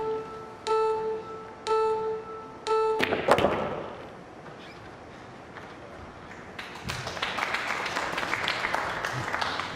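Applause from the crowd at a 9-ball pool match in the World Cup of Pool, following a shot: a burst of clapping that builds after a quieter stretch of table taps and thuds, moderately loud and sustained.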